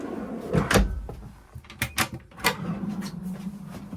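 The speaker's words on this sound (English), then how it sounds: "Big slide out pantry here." A large slide-out pantry drawer in a 2024 Roadtrek Play Class B camper van is pulled open, giving a few mechanical knocks and sliding rattles, moderately close with a quieter hum underneath.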